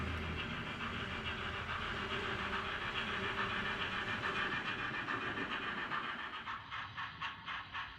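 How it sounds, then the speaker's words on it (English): An HO scale model train rolls along a layout with a steady rattling rumble of wheels and motor, moderately close, pulsing rhythmically toward the end. "The train is now passing through our town of Aromas"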